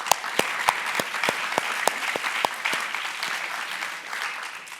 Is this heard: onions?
no